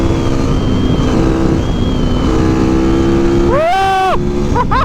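A Supermoto motorcycle engine runs at a steady idle close by, then revs sharply upward and drops back near the end, with a quick second blip, loud and alone.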